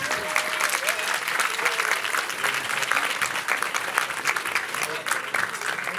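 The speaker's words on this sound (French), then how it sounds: "je crois que vous pouvez encore les applaudir." Audience applause for children at a film festival pitch workshop, steady dense clapping throughout with a few voices mixed in.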